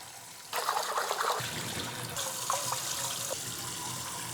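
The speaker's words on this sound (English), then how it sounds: "Cold water rinse, cold water rinse." Rice rinsed in a bowl under a cold running tap, a steady close splash of water with swirling, trickling movement and small sloshes as the grains are stirred, no talking.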